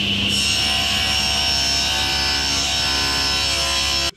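A saw cuts small wooden pieces to size for a wooden acoustic phone speaker, giving one loud, steady grinding rasp that runs for about four seconds and stops abruptly.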